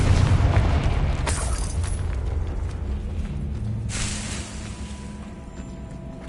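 A Confringo fire spell bursts in the Hogwarts Legacy video game, a loud, deep boom that rolls on with a long rumbling tail. A second softer blast follows partway through.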